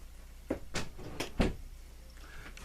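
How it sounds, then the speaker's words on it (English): A door shut indoors, heard as a few short knocks and thumps close by with a firmer bang partway through, then quiet room tone. "Oh, almost forgot to shut the door."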